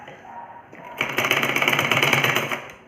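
Sewing machine stitching the folded neckline of a ladies' kurta, starting with a brief run then settling into a steady, loud, rapid rhythmic whir of needle strokes lasting about two seconds before stopping.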